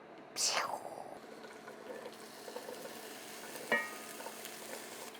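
Okra (bhindi) dropped into hot oil in a pan for an Afghan okra dish: a sharp burst of sizzling erupts, then settles into a softer, steady crackle, with a brief clink partway through.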